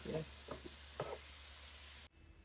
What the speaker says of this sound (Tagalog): ilagay ko na yung beef. Lutuin lang natin yung beef ng ilang minuto guys.